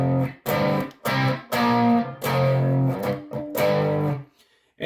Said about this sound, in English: let's crank that distortion up to about half, at about 12 o'clock